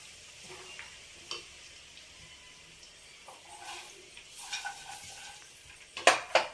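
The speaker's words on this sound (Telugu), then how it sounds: "గ్యాస్ ఆఫ్ చేసుకున్నాం కదా, ఈ వేడికే చక్కగా వేగిద్ది" Ginger and garlic for amla pickle seasoning sizzle quietly in oil that is cooling off the flame, with occasional stirring scrapes and a louder clatter near the end.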